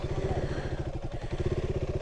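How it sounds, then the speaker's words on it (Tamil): An off-road motorcycle climbs a steep forest slope in the Kolli Hills, its engine thumping in a fast steady rhythm, loud and close, with a brief dip midway before pulling hard again. "அந்த ஸ்டீப்பில் வந்து வண்டியை ஏற்ற போகிறோம்"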